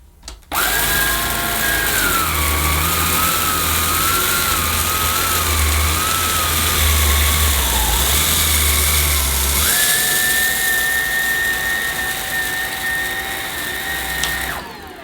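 A Bosch Flexxo Serie 4 cordless vacuum cleaner on carpet gives a steady whirring motor hum with a high whine that wavers as it is pushed over the pile, then shifts to a higher pitch before cutting off.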